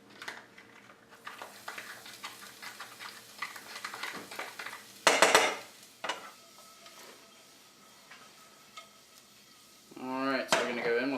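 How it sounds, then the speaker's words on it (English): Garlic sautéing in hot oil in a saucepan, a soft steady sizzle with faint clinks of a utensil against the pan and a louder scrape partway through, then a brief bubbling burst near the end. "I'm going to begin to saute some garlic."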